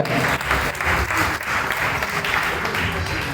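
A church congregation at a Sunday service claps together, a dense, loud burst of applause filling the room throughout, with a few voices mixed in.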